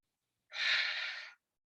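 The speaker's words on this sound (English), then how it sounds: "I'm going to take a deep breath." One slow, deep breath is drawn in, a single soft airy inhale lasting under a second, close and isolated in silence, as a calming exercise for handling anger.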